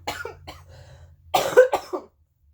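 A person with a lingering post-flu cough coughs twice in quick succession, close and fairly loud, right after a few softly spoken words.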